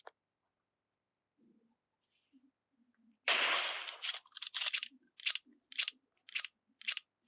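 Gunfire in the mobile battle royale game PUBG Mobile: after silence, a loud rapid burst of shots rings out, followed by several sharp, evenly spaced single shots.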